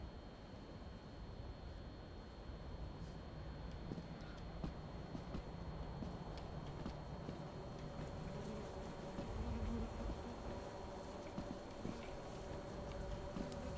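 Bees buzz in a video game, a faint, continuous insect drone with scattered small clicks and taps, heard at low level with no talking.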